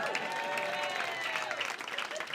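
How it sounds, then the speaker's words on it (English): The audience at Hot Water Comedy Club breaks into a round of applause, a crowded patter of clapping mixed with cheers and voices that fades slightly near the end. "I sometimes get a round of applause"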